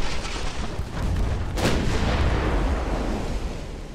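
A torpedo strike explodes in the naval warship game Ultimate Admiral: Dreadnoughts, a loud, deep blast that swells about halfway through over a steady rumbling din, with no talk.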